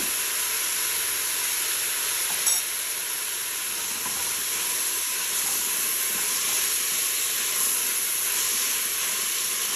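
Vegetables and mushrooms, salted, sautéing in a Cookeo multicooker, giving a steady broadband sizzle and hiss throughout with no talk.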